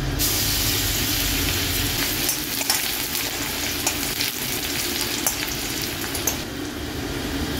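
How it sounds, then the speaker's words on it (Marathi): Crushed garlic cloves fry in hot oil in a kadhai, a loud continuous close sizzle and crackle with occasional small pops, no voices heard. "कढईत 2 चमचे तेल टाकायचे। त्याच्यामध्ये मी 7 ते 8 लसणाच्या पाकळ्या टेचून घेतल्या, ते आपण टाकूया"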